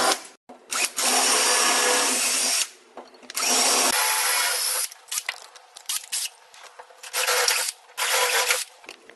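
A power drill with a bit up to 3/8 inch bores into a solid wood door in several loud bursts, starting with longer runs and then shorter stop-and-go pulses, close up.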